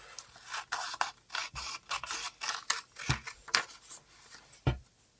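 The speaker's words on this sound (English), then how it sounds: "snip these off" Scissors snip paper pieces for an iris folding sunflower papercraft, a steady series of close, crisp cuts with short pauses in between and no talking.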